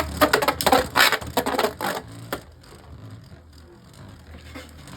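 Beyblade spinning tops clash in a stadium, a Pro Series top against a Takara Tomy top, with a dense burst of loud metallic scraping and knocking hits for about two seconds, then quieter rattling and whirring.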